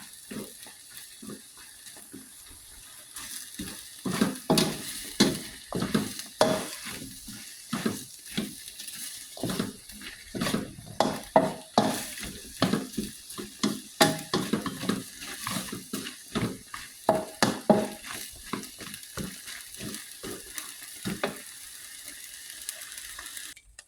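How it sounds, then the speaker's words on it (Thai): Ingredients dry-roasting in a pan with no oil, stirred continuously: a steady run of dry scraping and clattering strokes against the pan, fairly close, with a light sizzle underneath and no talking. "จะคั่วอีกสักพักนะคะ"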